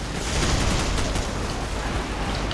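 Battlefield explosions in Call of Duty 4: Modern Warfare, a dense, loud continuous roar of blasts and rumbling debris filling the whole stretch, with no single distinct boom standing out.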